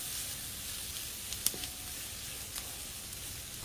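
Chopped vegetables sauté steadily in a pan for a dosa masala filling, giving a soft, continuous sizzle with a few faint clicks and taps, quiet and close, with no talking.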